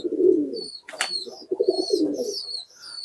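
Pigeons returning to their coop coo in low, rolling phrases close by, broken by a brief burst of flapping wings around the middle, with thin chirps overhead.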